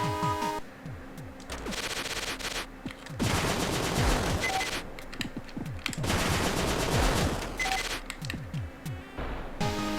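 Machine gun fire in the Cave Story video game: rapid bursts of sharp, loud shots in rhythmic volleys, broken by short pauses, with game effects in between.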